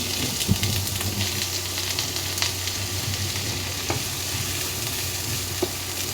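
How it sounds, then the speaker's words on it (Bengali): One cup of chopped onions frying in hot mustard oil makes a steady, close sizzle, with occasional sharp pops and light spatula clicks throughout. "এখন আমি তেল গরম হলে এর ভিতরে এক কাপ পেঁয়াজ কুচি দিয়ে দিলাম"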